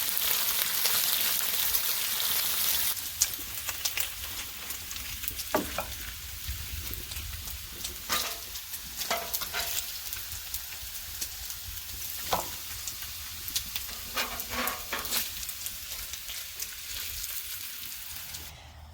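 Bacon frying in a pan, a steady close sizzle with crackling pops throughout, no talking.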